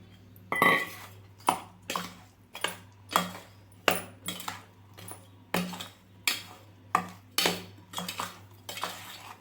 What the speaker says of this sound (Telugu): నిమ్మరసాన్ని కూడా కలుపుతున్నా